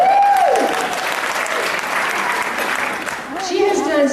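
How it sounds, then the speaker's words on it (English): Audience applause for Paula Nelson at a PEN kickoff event, a steady wash of clapping from a crowd, with a voice talking over it at the start and end. "We just give you a round of applause"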